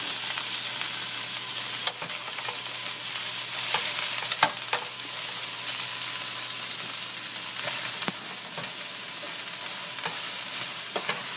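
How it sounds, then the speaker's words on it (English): Vegetables sizzle steadily in a hot pan as they cook down, a continuous close frying hiss broken by a few sharp clicks and scrapes of stirring. "We're going to let this start cooking down a little bit."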